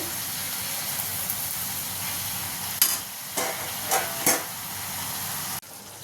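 Sweet corn pulao stirred in a pot once the lid is off, a soft steady steamy hiss broken by a few short scraping strokes of the spoon before the sound abruptly drops away.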